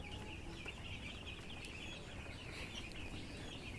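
A flock of eight-day-old chickens on a poultry farm clucks and peeps in a continuous dense chorus, fairly faint and steady throughout.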